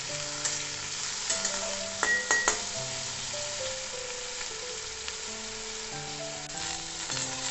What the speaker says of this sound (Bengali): এরপর আমি কেটে রাখা বেগুনগুলো এর মধ্যে দিয়ে দেব। বেগুনগুলো দিয়ে আমি একটু ভেজে আলুগুলো এর মধ্যে দিয়ে দেব।